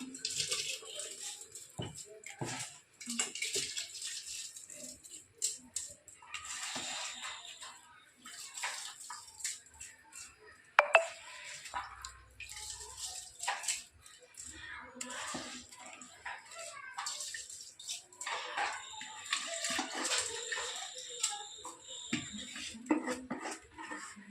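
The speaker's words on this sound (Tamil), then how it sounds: "இப்போது நம்ம எடுத்து வச்சுருக்கிற இந்த அரிசியை இதில் போட்டுக்கலாம்" Rice poured into boiling water for chicken biryani in a home kitchen, with soft splashing, bubbling and occasional clinks of a pot and utensil, close and quiet while someone speaks throughout.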